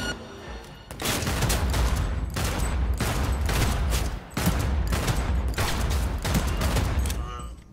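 Gunfire in the video game Cyberpunk 2077, loud rapid automatic bursts in several long volleys separated by short pauses, filling the whole clip.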